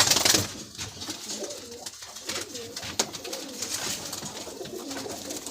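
Close pigeon coos from a Madrasi breeding pair roll out in a steady series of low, throaty calls, with a short flutter at the start and soft background noise.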